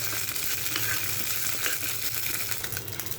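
Ingredients for an oats breakfast cooking in a pan on the stove, a dense, even sizzle that holds steady throughout, close and moderately loud, with no speech.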